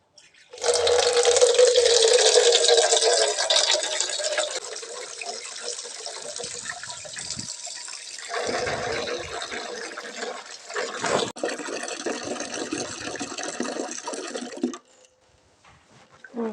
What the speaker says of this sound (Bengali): তারপর একটু পানি দিয়ে দিব